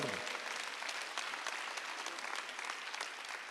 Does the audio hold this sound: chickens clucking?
no